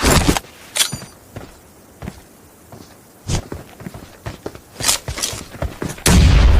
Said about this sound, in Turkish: Oo bomba geldi.